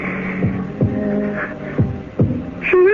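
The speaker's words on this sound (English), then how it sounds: "It's not her heart that's beating. It's mine." A radio-drama heartbeat effect thumps as slow, low, evenly spaced beats under a sustained hum, moderately loud and close, with a brief voiced sound at the end.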